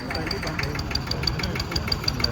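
A steady IMT 533 tractor engine idles nearby with a regular knocking pulse, loud and continuous throughout, rumbling low underneath.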